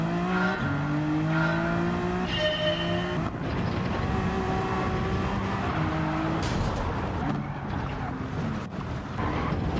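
Race car lapping the Nürburgring in Gran Turismo 7, a loud continuous engine note climbing in pitch through the gears with sharp shifts, the roar staying close and steady throughout.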